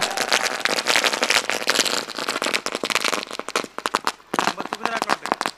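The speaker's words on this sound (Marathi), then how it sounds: "फटाक्यांच्या आतिषबाजीमध्ये स्वागत।" Fireworks and firecrackers burst in a welcome at a bullock cart race in Maharashtra, a dense, continuous barrage of loud crackling pops, thinning toward the end into separate sharp bangs.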